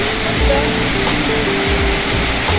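Savatkada waterfall pours in a steady, dense roar close by, an unbroken wash of falling water that fills the whole stretch.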